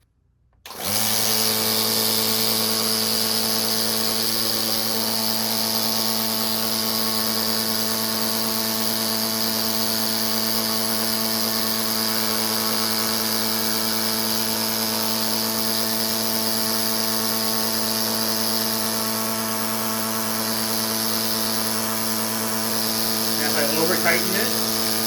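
A replacement pump mechanism runs after being switched on, giving a steady, loud mechanical hum with constant tones that holds evenly for over twenty seconds.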